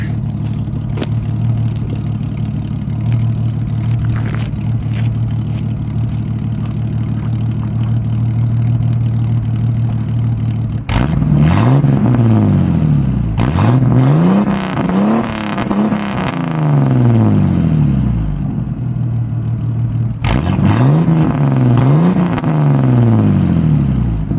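A 1987 Jeep Cherokee with a 4.0 Renix engine and an 18-inch Cherry Bomb muffler idles with a steady low rumble, then revs hard several times in rising and falling sweeps, close and loud.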